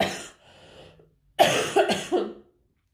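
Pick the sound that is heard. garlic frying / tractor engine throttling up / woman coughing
woman coughing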